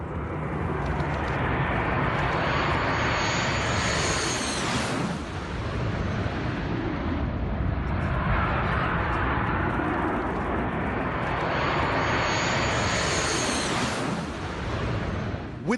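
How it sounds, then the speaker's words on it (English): An Indian Air Force MiG-29 fighter jet lands at Leh Air Base in Ladakh with a loud, sustained jet roar that swells and fades in sweeping waves, close by and alone with no voices. "An Indian Air Force MiG-29 fighter jet arriving back at the Leh Air Base after a mission over Ladakh."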